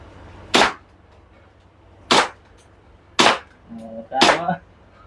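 A JWC Combat Master airsoft pistol fired four times at a shooting session in Valenzuela, each a sharp, snappy crack spaced about a second apart, close by, with brief voices between shots.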